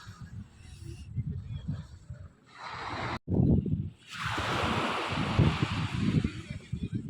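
Sea surf rolling onto a beach at night under a full moon on a very windy evening, a steady broad wash of breaking waves with gusty wind noise and a low rumble throughout, with surges building and receding.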